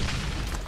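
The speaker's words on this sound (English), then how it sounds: "Whoa, nice grenade." A grenade blast in the video game Borderlands, a brief loud broadband boom that fills the short moment with dense low rumble and crackle, no talk.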